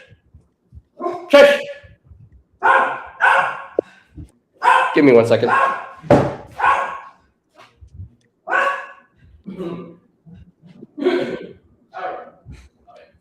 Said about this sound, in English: I think my dog saw a cat.